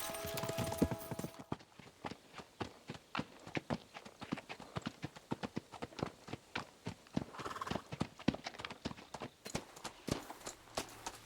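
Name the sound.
horses galloping in Kingdom Come Deliverance 2 video game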